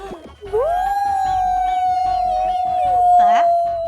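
A human voice imitates a dog's long, mournful howl, holding a sustained wavering tone for several seconds before rising at the end.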